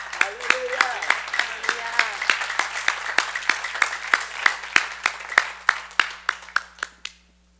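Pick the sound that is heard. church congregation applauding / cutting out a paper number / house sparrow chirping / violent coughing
church congregation applauding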